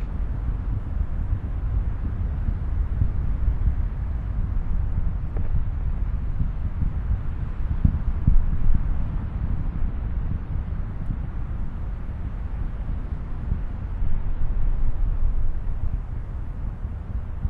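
Steady, heavy low roar from space shuttle Atlantis's twin solid rocket boosters during ascent, a continuous distant rumble with no breaks, heard alone without talk.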